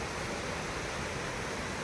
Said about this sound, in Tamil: எனக்கு பக்கத்துல பாஞ்சுகிட்டு இருக்க இந்த அருவியிலருடைய இரைச்சல்